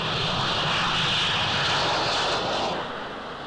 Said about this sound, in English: on an aircraft carrier, a jet fighter only has a very short distance for takeoff